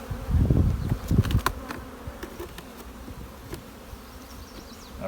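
Honeybees buzz around an open hive as a beekeeper works through its frames, a dense hum broken by louder close passes near the start and several sharp clicks and knocks of equipment.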